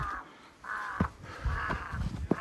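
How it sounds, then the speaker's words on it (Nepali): A crow beside a mountain trekking trail caws loudly four times in a row, harsh and fairly close, with no voices around it. "काग कराएर छ यहाँ"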